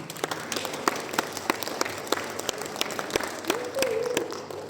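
Applause for graduates at a graduation ceremony, a steady patter of scattered claps from the audience filling a hall, with a brief voice rising near the end.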